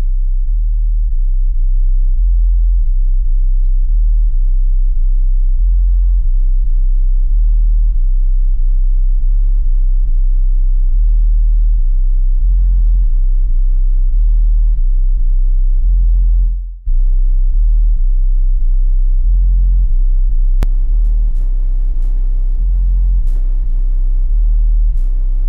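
Heavy bass song pumped through a Stereo Integrity HS24 subwoofer in a Cadillac Escalade, deep booming low notes pulsing loudly and steadily inside the cabin, with a brief dropout partway and no talk.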